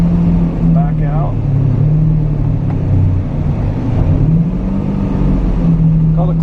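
Lamborghini Diablo engine driving off and pulling away, a steady low rumble that rises and falls with gear changes and sits close under someone talking throughout.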